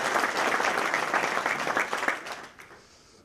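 A municipal election debate audience in Bladel gives a music trio a warm round of applause, dense clapping that holds steady and then thins out and fades over the final second.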